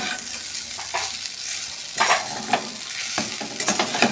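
Ghee sizzling and crackling in a pan while sabudana khichdi cooks, with bursts of spattering and stirring scrapes coming close and steady, no voices.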